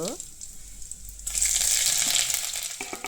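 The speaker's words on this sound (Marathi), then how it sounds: "फोडणीची तयारी. तेल घालूया. त्यात आपण जिरे, लसूण, अद्रक, हिंग" Cumin, garlic, ginger and hing hit hot oil for tempering, and a steady frying sizzle swells and continues close by after a brief quieter start.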